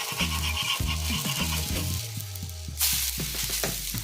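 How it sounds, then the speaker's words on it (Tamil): Village-style pumpkin flower bhajji frying in hot oil gives a steady close sizzle with bubbling crackles over a low continuous hum, rising to a brighter hiss near the end. "எண்ணெய் ஊற்றி லைட்டாக அப்படியே கொஞ்சம் கொஞ்சமாக இப்படி பொரித்து எடுக்கணும்"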